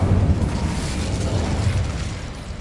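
Incendio fire spell cast in Hogwarts Legacy on PS5: a loud, sustained whooshing roar with a deep rumbling low end that holds steady for a couple of seconds, like a burst of flame, with no voices.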